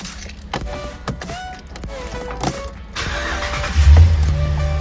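A 2016 Dodge Ram 1500 pickup truck starts up after a few clicks and rattles inside the cab, the engine catching with a low crank and then settling into a steady idle.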